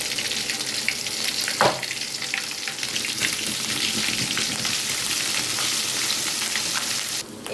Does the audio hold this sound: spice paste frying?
yes